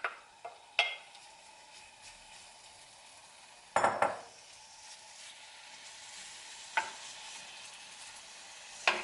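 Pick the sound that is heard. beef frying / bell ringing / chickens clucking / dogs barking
beef frying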